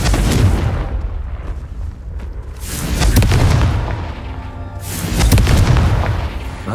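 Confringo fire-blast spells exploding in Hogwarts Legacy, three loud rumbling booms about every one and a half seconds, each with a crackling burst and a decaying tail.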